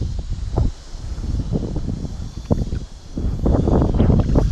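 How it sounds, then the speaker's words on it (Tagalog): Gusty wind buffets the microphone on a rocky shoreline during rock fishing in the Philippines, a continuous rough rumble that swells and surges in uneven bursts, loudest toward the end. "Hangin."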